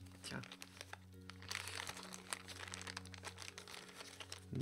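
A knife cuts into a plastic bag while unboxing a miniature wargaming model kit, giving close, steady crinkling and crunching with brief tearing snaps, under speech and a constant low electrical hum.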